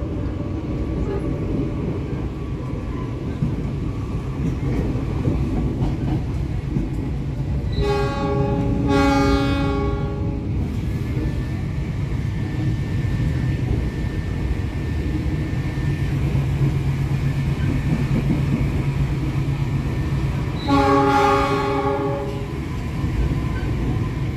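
The Cikuray train passes straight through Pasir Jengkol station with a steady, loud rumble of wheels on track, broken by two long horn blasts a little over ten seconds apart.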